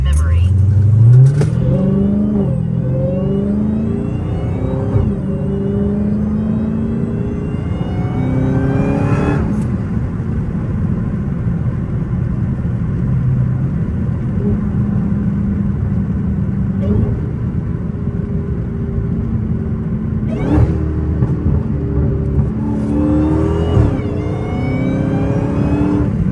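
Dodge Hellcat with a muffler delete and intake driving at night, loud rumbling exhaust with revs rising and falling as it accelerates, a steady cabin drone in between, and voices talking over it.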